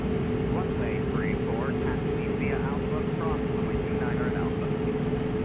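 Twin jet engines of an Airbus A220 in a flight simulator hum steadily at a constant loud level, while a person talks over the engine noise.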